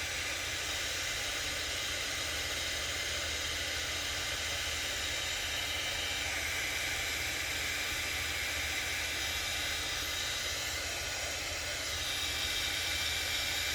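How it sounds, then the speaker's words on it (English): A heat gun blows steadily onto paint on a tumbler to raise a crackle finish, giving a continuous, even, broadband airy hiss close by with no speech over it. "with the heat gun, you don't want to keep it too close too long because it'll actually bubble that the paint up from the base"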